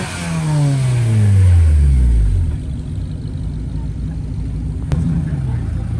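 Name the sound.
BMW engine revving while struggling to back up at car meet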